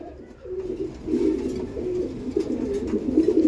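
A pair of Giribaj pigeons coo steadily and close by, a low, throaty, rolling murmur that swells and continues throughout without pause, with no voices.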